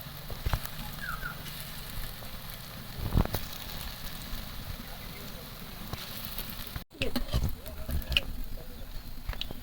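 Lentil fritters fry in a little oil in a nonstick wok, giving a soft, steady sizzle and faint crackle with a few sharp utensil knocks.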